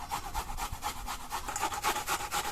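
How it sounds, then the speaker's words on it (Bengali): Peeled onion and garlic are rubbed against a grater, a quick, steady run of close scraping strokes repeating rhythmically at moderate volume. "এ সাইডে পেঁয়াজ আর রসুন আমি খোসা ছাড়িয়ে নিয়েছি, এগুলো গ্রেট করে নেবো।"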